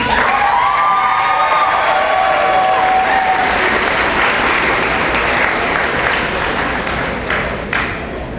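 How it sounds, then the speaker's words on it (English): Loud, sustained applause from a large crowd fills a hall at a 2019 high school commencement at Meek, with a few cheers and whistles before it gradually tapers off. "we're going to say his name and give him applause"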